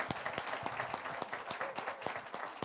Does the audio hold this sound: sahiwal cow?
no